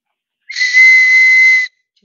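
A clay water whistle blown once, a clear, loud, steady warbling tone lasting about a second with a breathy edge, close up and alone in silence.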